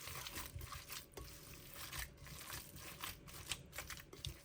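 Minced meat mixture for a meat loaf being stirred and mashed by hand, giving soft, faint, wet squelching and slapping noises in an irregular rhythm, heard close with no talking.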